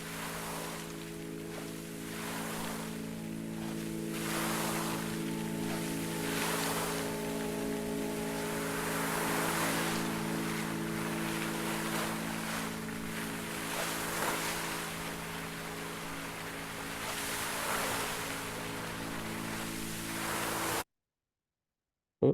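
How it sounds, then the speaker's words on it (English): Outdoor water fountain splashing steadily with sustained piano tones, a continuous wash of falling water and held chords throughout as a composed piece, then cutting abruptly to silence near the end. "In this piece, I use the sounds of an outdoor water fountain and a piano."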